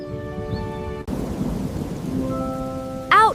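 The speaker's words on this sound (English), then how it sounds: "Down came the rain and washed the spider out." Rain and thunder effect in a children's song: steady rain hiss with a sharp thunder crack near the start, under sustained musical tones, ending in a brief rising burst.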